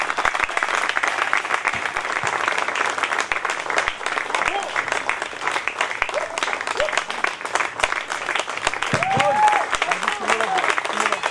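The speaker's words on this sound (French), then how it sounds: "On applaudit pour Sonny Laboutansi" Sustained audience applause at the opening of an international actors' festival, with dense, crackling clapping over eleven seconds and voices rising briefly through the crowd noise.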